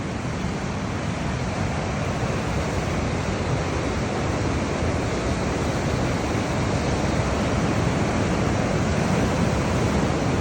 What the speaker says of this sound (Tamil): இந்த பார்டர் கிராசிங்கில் மிக முக்கியமாக இருக்கக்கூடியது நம்ம நயாகரா நீர்வீழ்ச்சி தான்.